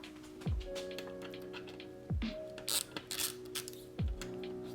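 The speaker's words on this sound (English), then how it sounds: "Now we just torque that down." A torque wrench clicks and ratchets while tightening a bolt on a OneUp V2 bicycle bash guide, giving three or four sharp mechanical clicks with light metallic ticking between them, close up with no talking.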